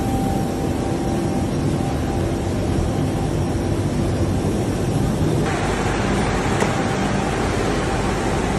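An industrial front-loading washing, dyeing and hydro-extractor machine piece-dyeing denim jeans and jackets, with its hydraulic system tightening: a loud, dense, continuous roar and rumble, steady throughout with a slight shift partway.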